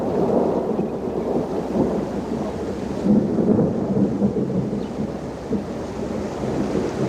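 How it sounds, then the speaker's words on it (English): A thunderstorm over the Luangwa River in Zambia: deep rolling thunder rumbles on and off, with a swell near the middle, over a steady hiss of rain and light wind. "the storms become more frequent"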